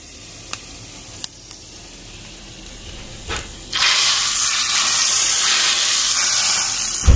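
A few faint clicks, then a loud, steady sizzle erupts as spices for dal tadka hit hot oil and keep crackling and hissing up close in a home kitchen.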